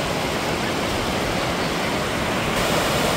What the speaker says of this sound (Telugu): పైనుంచి కింద పడుతున్నాయి వాటర్ ఫాల్.